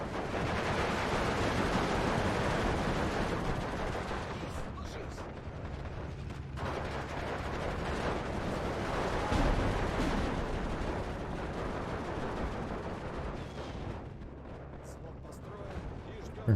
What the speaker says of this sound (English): I'm gonna mortar this area, and we'll mortar this area